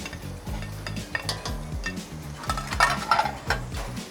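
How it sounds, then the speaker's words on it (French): Onions and garlic cook in butter in a pot, with a soft sizzle under rhythmic scraping strokes of a spoon and a few metallic clinks, close and fairly quiet. "on attaque la cuisson avec les oignons et l'ail"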